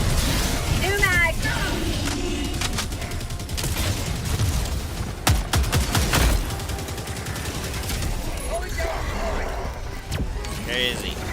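Gunfire in the shooter Helldivers 2, with loud, continuous volleys of shots and booming impacts throughout, mixed with game noise and people talking over the action.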